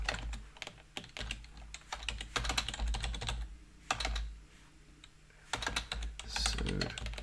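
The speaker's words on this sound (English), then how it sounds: "Oh, my typing is always fun." Rapid bursts of clicking on a computer keyboard while writing .NET Core code, close and clear, irregular clusters of keystrokes separated by short pauses.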